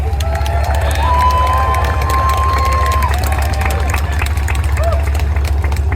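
Crowd of tank weekend spectators at a Battle Royale champion vote breaks into cheers, whoops and applause, with a long whistle over a constant low rumble of machinery.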